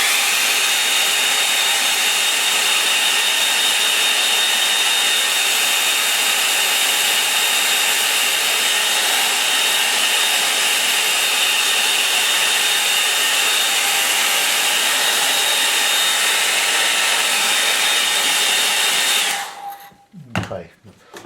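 A hair dryer blows steadily and loudly for about nineteen seconds, drying a watercolour autumn sketch, then switches off and leaves brief handling noise.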